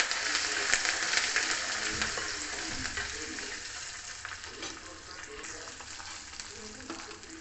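Dried red chilies and curry leaves sputter in hot oil, making a dense, close sizzle with crackling pops for Andhra Brahmin cooking, strongest at first and easing off slightly over time.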